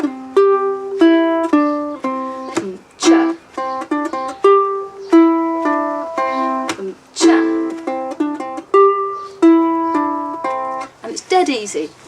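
A ukulele plays a short plucked riff from a song, bright single notes in a bouncy repeating pattern, close and clear, with a brief strum near the end.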